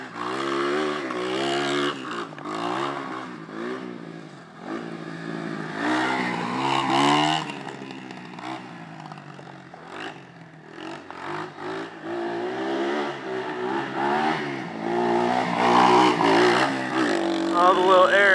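A motorcycle revs and pulls a wheelie at a riding camp, its engine note rising and falling in close, loud surges with harmonic sweeps throughout, mixed with voices talking over it.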